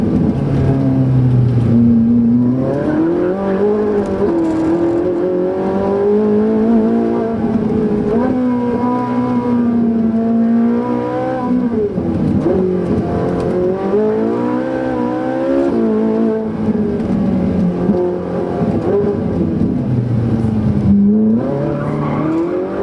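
Ferrari 458 Italia accelerating hard out of a second-gear hairpin and up through the gears on a straight: a loud, close engine wail climbs in pitch, drops with each shift, and rises again, with brief tire noise.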